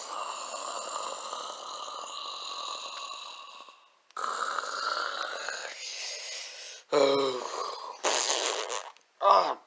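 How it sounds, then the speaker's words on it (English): Several long, loud flatulent blasts follow one another, a sustained buzzing fart followed by shorter sputtering bursts after a brief pause, likely produced vocally, up close with no other sounds. "I just farted."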